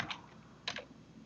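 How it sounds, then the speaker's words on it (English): A name is typed on a computer keyboard in a few quick, quiet key clicks, with a short pause between small clusters of taps. "you start typing their name."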